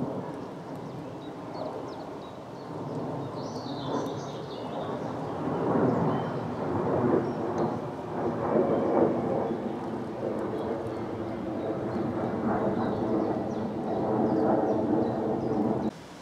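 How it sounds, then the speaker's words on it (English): Jet aircraft passing overhead above countryside on a walk from Pulborough to Petworth, a steady broad roar that swells and holds through the clip, with some brief chirps of birdsong. "Shame about the jet noise now."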